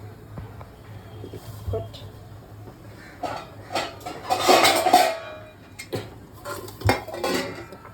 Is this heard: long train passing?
no